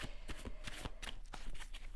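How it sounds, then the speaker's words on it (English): A tarot card deck being shuffled by hand, quick riffling bursts and soft flaps in an uneven rhythm, close and moderately loud, with no talking. "Let me shuffle a little bit more."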